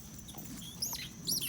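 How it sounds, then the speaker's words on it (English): A squeaky toy ball that chirps like a bird gives a couple of short, faint high squeaks over quiet room noise, with beagle puppies playing nearby. "a ball that sounds like a bird"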